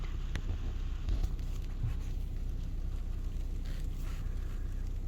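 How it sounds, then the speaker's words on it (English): Soft hail pattering steadily outside in winter, a dense, even patter of tiny taps and light drumming that continues without pause, fairly faint against a low rumbling background. "I wouldn't call this snow as much as I would call it a soft hail"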